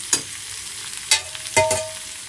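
Bitter gourd sabzi cooks in a pan, with a soft background sizzle broken by three or four sharp spatula scrapes and stirs, close and with no talking.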